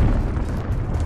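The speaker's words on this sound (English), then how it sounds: "Enemy cruise missile incoming!" A loud, rumbling cruise missile explosion in a Call of Duty hardpoint match on the Backlot map, a deep sustained boom filling the whole moment.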